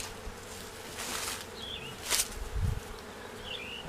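Bees buzz around a church beehive cutout, a continuous busy hum with occasional louder passes close by and faint knocks, with no talk.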